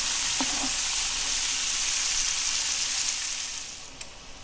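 Minestrone vegetables with garlic sauté in a pan, a steady close sizzle opening with a couple of light utensil taps and easing quieter toward the end before a final clink; no talking.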